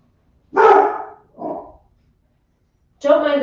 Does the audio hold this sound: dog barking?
yes